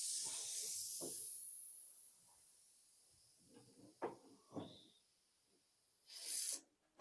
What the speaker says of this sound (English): Let any air out the radiator.